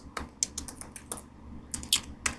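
Fingers typing on a computer keyboard, irregular quiet clicks in small clusters with brief pauses, close and soft, with no voices.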